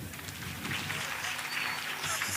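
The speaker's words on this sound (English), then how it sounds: "Please let us clap hands for the Honorable." An audience claps at the official opening of the NAMPOL 27th annual sports championship in Keetmanshoop, producing a soft, steady patter of many hands heard from some distance.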